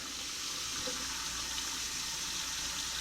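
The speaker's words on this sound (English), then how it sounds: "I'll fill it up about a quarter way with water." Steady rush of tap water pouring continuously into a plastic bag, close and fairly loud, with no voices.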